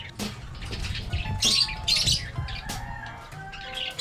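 Opaline African lovebirds in an aviary give a few sharp, high squawks and chirps over a busy low background, with scattered rustling between calls.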